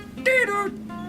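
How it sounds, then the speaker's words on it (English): A short electronic beep from a phone-banking predictive dialer signaling a connected call, with a bright, slightly falling tone, brief and fairly loud over a low steady hum. "Once a connection's been made, it makes a beeping sound."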